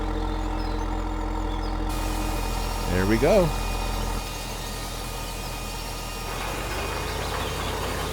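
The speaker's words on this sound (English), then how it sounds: "I really enjoy driving this tractor, so I'm looking for an excuse to use it." A modded tractor in a farming video game hums with a steady low engine drone, a brief rising rev in the middle, while someone talks over it.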